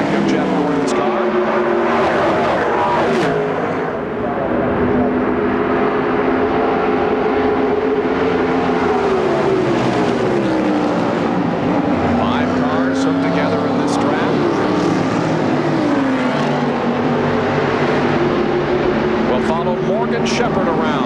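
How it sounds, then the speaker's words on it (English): NASCAR Cup stock cars roar past at Indianapolis during the 1996 Brickyard 400 practice, a loud continuous engine drone rising and falling as cars pass, with commentators talking over it throughout. "Here comes Lake Speed closing in on the back of Jeff Gordon's car."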